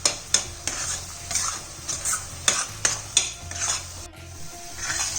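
Coconut and jaggery laddu mixture is stirred in a pan, a spoon scraping and knocking against the metal in a regular rhythm over a soft sizzle, with no voices.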